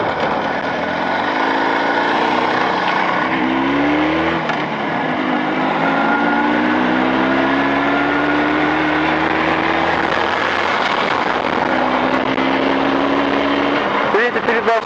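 An engine being broken in on Chinese cylinders in +40 degree heat runs continuously in third gear, a steady, fairly close drone whose pitch rises and falls slightly as the revs change.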